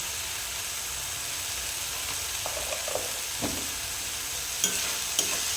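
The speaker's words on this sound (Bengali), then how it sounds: "এবার মশলাটাকে সুন্দর করে কষিয়ে নেব যাতে কাঁচা গন্ধটা একদম চলে যায়" Spice paste with salt, turmeric and red chilli powder is fried and stirred for a fish curry, a soft steady sizzle with occasional light spoon taps and scrapes.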